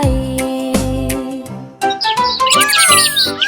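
Small colourful bird chirping in a rapid run of bright, high tweets and trills, starting about halfway through and rising in density near the end, heard over a sung children's-song melody with steady music underneath.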